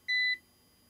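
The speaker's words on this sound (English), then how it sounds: "So it beeps to tell you it's running on battery, and the light blinks there." An APC Back-UPS 450 battery backup running on battery gives one short, clean electronic beep, a steady high tone lasting about a quarter second, then near silence.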